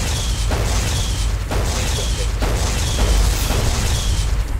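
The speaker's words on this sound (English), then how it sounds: "Let's pull out the Tesla cannon." Tesla cannon firing in Fallout New Vegas: a series of roughly four heavy electric blasts about a second apart, each a loud booming burst over a constant low rumble.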